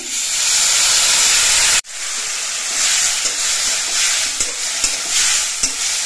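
Potatoes and vegetable stems fried with turmeric and slit green chillies sizzle loudly in a pan; the sizzle cuts out abruptly as water goes in, then settles into a steady steamy hiss with occasional stirring knocks.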